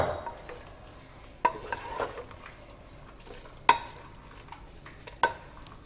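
Jackfruit curry is stirred in a pan over a low flame, with three sharp metallic clinks of the spoon against the pan spaced a couple of seconds apart over a quiet, soft background sizzle.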